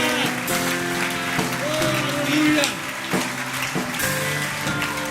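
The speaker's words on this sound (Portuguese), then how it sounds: "Aplauda a presença do Senhor nesse lugar." A church congregation claps steadily in a dense, continuous wash of applause, with music or organ tones sustained underneath.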